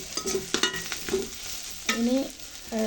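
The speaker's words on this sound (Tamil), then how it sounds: "இப்போ வதங்கிட்டது நல்லா." Ingredients for a drumstick and jackfruit-seed curry sautéing in a pan, with a steady close sizzle and repeated scraping stirs of a spoon against the pan.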